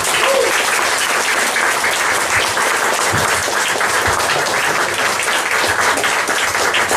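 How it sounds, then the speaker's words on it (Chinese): An audience at a talk at Rochor Centre bursts into dense, sustained applause that holds at an even, loud level throughout, with no voices rising above it. "我们再给 Dr. Lily 一个热烈的掌声"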